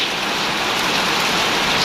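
Heavy rain pours down steadily in Faridpur District, Bangladesh, a dense, loud hiss of drops hitting surfaces close by, with no voices.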